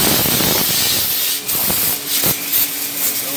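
High-pressure water spraying the crusted underbody of a 1993 Toyota Kijang Super at a car salon, a loud, steady roaring hiss with brief dips and spatters as the jet moves.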